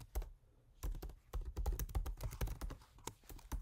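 Rapid typing on a computer keyboard, close and crisp, with bursts of key clicks separated by short pauses as a web address is entered.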